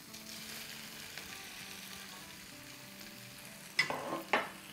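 Bell peppers and onions sizzle and crackle in a hot pan during a chili stir-fry, a steady low frying hiss punctuated near the end by a couple of louder scraping stirs.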